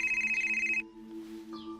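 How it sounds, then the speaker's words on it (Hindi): A mobile phone rings indoors with a bright repeating electronic ringtone for under a second, then cuts off, followed by a quieter chime. "ये तुम्हारा फोन बज रहा है, फोन लो।"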